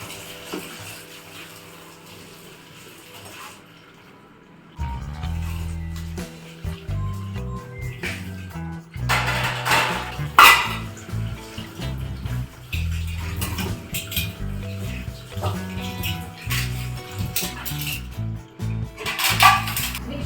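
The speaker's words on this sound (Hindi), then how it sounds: "तो अब मैं पहले बर्तन धो लेती हूँ" Dishes, pots and utensils are washed at home. Irregular clinks and clatters mix with bursts of running tap water, close by, with no talking.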